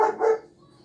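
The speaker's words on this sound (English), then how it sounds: "excuse the dogs, please." A dog gives two quick, loud barks close by, the second slightly longer, then goes quiet.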